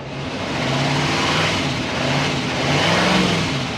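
A car engine revs repeatedly while the vehicle sits raised on a jack, a loud close mid-pitched roar rising and falling in two or three swells with a misfiring number four injector connector.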